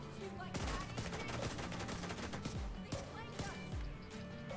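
Gunfire in the shooter video game Division 2 comes as bursts of rapid automatic shots and single cracks over a busy game soundtrack, fairly loud and steady throughout.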